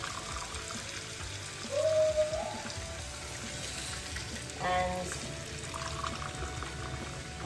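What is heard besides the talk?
cup of water poured into pot of bourgouri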